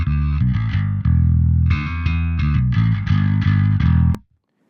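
A bass guitar runs through a distorted dirt channel on a compact gigging pedalboard, playing a grimy, buzzing riff of short and held notes, loud and alone, then cutting off abruptly.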